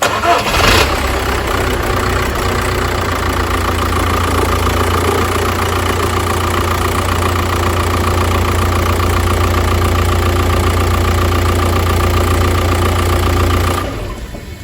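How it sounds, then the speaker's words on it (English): An Audi A4 2.0 TDI diesel engine cranks and fires up, then settles into a steady, loud idle with a low rumble and rhythmic clatter before cutting off. "we're going to start it up and run the engine for 10 or 20 seconds"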